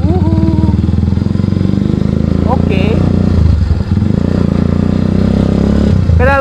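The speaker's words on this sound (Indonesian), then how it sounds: "knalpotnya lumayan kenceng cuy" A Kawasaki W175 cafe racer with custom exhaust idles loudly and close, its single-cylinder thump steady with short throttle blips, while a person talks over the engine.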